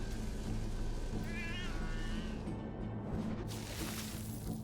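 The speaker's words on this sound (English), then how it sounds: "let's watch out for laser cats here" A laser cat in a video game gives a short, wavering meow over a steady hum of game noise. A crackling burst follows near the end.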